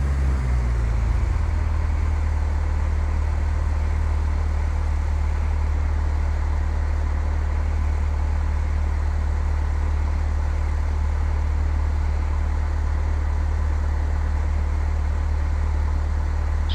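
An aircraft engine at reduced power, around 1500 RPM, in the Flight Simulator X video game, a steady low droning hum that holds constant and loud for the whole stretch, with no voices.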